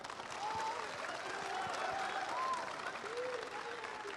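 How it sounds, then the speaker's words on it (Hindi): Crowd in Chapra, Bihar claps in steady, dense applause, loud and sustained throughout, with faint voices rising over the clapping. "छपरा की जनता को, और तालियों के साथ इनका स्वागत"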